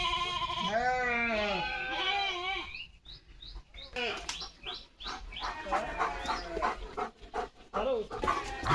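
A flock of sheep bleat repeatedly as they pass a house door, overlapping wavering cries, while a person speaks over them in the second half.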